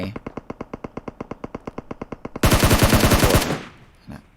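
Automatic gunfire in PUBG Mobile: a steady rapid string of loud shots, then a denser, harsher burst of overlapping fire that cuts off and fades.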